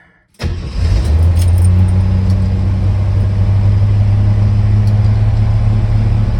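A Jeep J10 truck engine cranks and catches just after a short quiet start, then settles into a steady, loud, close idle with a low droning hum.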